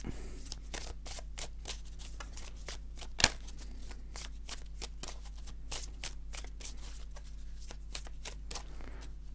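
Four playing cards dealt out one by one onto a table, with soft repeated flicks and slides, one sharper tap, over a low steady hum.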